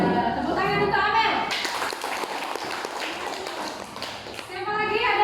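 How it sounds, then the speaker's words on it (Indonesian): Classroom applause for a student after a Quran recitation: a burst of clapping fills the middle of the clip, with voices speaking just before and after it. "tepuk tangan untuk Amel"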